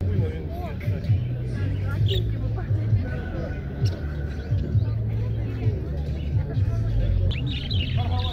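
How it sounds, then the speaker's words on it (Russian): Budgerigars chirp at an outdoor winter bird fair, small rapid tweets scattered over constant market hubbub, with people talking nearby and low rhythmic rumble beneath. "Волнистых большой ассортимент сегодня"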